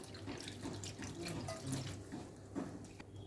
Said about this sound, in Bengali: জল দিয়ে দেব বেশি করে।